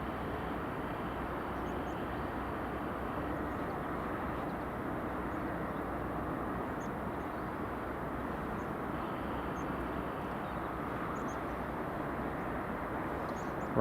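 Distant, steady jet roar from a Ryanair Boeing 737 MAX 8 taking off at Edinburgh Airport, a broad continuous rumble holding at a fairly even, soft level throughout with a few faint bird chirps above.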